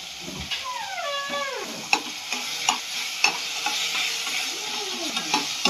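Green masala paste sizzling steadily in a pan with French beans while being stirred, with a continuous fry hiss broken by regular spoon scrapes and knocks against the pan, and no talk.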